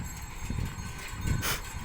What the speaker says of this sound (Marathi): हावे हावेने जात आहे बैलगाडी हळूहळू पाहू शकता तुम्ही